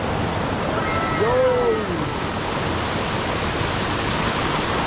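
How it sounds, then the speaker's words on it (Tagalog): Water falls into pools at a mountain waterfall, a loud, steady roar filling the scene up close, with a faint whistle-like voice briefly rising over it. "naririnig na rin yung bagsak ng tubig ng pools"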